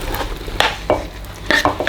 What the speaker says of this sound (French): maintenant, on va ajouter nos aubergines dans la marmite